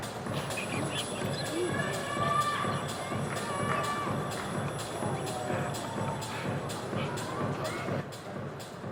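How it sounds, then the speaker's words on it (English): A large stadium crowd at a Japan versus Hong Kong rugby final roars and cheers in a broad, sustained wash of noise after a try, with a voice talking over it. "did you hear the crowd there? They loved it."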